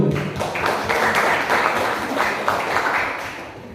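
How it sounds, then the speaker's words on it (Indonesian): Audience applause at an Indonesian business meeting for a grape seedling nursery, a steady broadband wash of many hands clapping at moderate loudness, continuous throughout with no voices on top. "Tepuk tangan terlebih dahulu."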